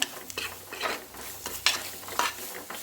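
Chili and turmeric powder frying in oil in a pan, stirred in a few distinct scraping strokes over a soft, close sizzle.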